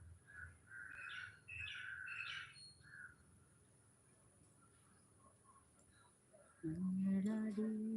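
Several crow calls ring out in short bursts, fairly distant and faint, then a voice speaks up loudly nearby.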